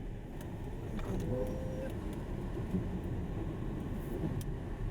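A BYD Atto 3 electric car drives in eco mode with maximum regenerative braking on a mountain road, a steady close cabin rumble of road and tyre noise with a faint whine, under someone talking.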